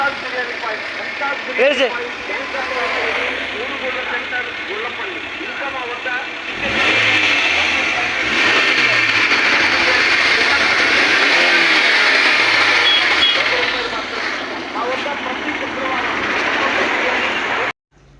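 A 2005 Swift VXI petrol car engine with 230,000 km runs close by, idling and then revving up to a louder, steady drone before cutting off abruptly at the end.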